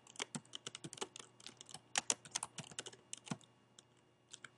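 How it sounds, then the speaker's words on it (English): Quick, irregular clicking keystrokes on a computer keyboard as text is entered into an Excel 2007 spreadsheet cell, close and fairly quiet, in bursts with brief pauses. "Let's select cell C6 and type Northwestern University."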